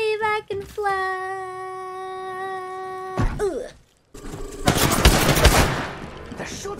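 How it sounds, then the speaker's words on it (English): Gunfire in Apex Legends begins after a sustained tonal sound and a short pause, then erupts in a loud, rapid burst of overlapping shots with crackling impacts. "They're shooting at me."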